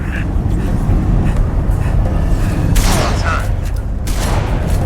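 Weapons fire in the Halo Reach Sword Base battle comes as rumbling booms and bursts of blasts over a heavy, steady din, loud and close.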